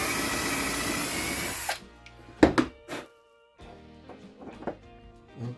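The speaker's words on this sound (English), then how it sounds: "we're going to drill in the sides so we get a little more depth here" A power drill bores into the sides of an epoxy table station with a steady, loud whine for almost two seconds. Sharp knocks and clatter follow, then quieter bumps and handling noises.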